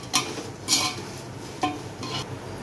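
Tomato puree is stirred into a pan for uggani, a few distinct scraping, clattering spoon strokes close by, spaced with short pauses.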